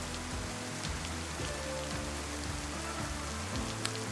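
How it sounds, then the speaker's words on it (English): Rain falls steadily on the ground in a video game, a dense even hiss of drops that runs throughout with a low hum beneath and no voices. "I'm going to make it rain."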